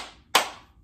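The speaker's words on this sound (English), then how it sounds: "If you're happy and you know it, clap your hands" A single sharp clap of hands during a children's yoga sing-along, one crisp close burst standing out against near silence and fading quickly.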